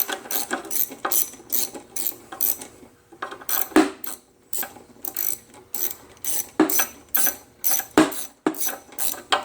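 A hand ratchet loosens the carburetor bolt on a tank-mounted Briggs and Stratton engine, giving rapid close clicking bursts in a steady back-and-forth rhythm with short pauses and a few heavier clunks between strokes.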